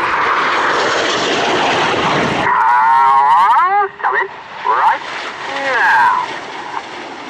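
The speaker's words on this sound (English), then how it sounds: "Here comes a lone jet." A lone Red Arrows jet sweeps past at the Scampton airshow, a loud roaring whoosh that cuts off abruptly, followed by a commentator speaking over the crowd.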